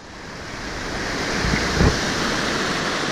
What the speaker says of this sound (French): Le torrent qui traverse Moën.